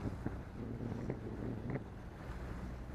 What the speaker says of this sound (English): Somewhat breezy day from the east, real windy out in the sound